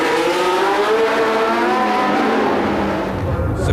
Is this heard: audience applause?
no